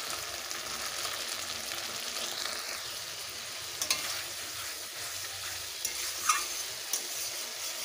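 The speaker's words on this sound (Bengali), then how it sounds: "মশলা দিয়ে ভালোভাবে কষে নেব।" Spices with salt and turmeric are stir-fried in oil for a duck curry, giving a continuous soft sizzle with occasional spoon scrapes and a few sharper clinks against the pan, heard up close without talk.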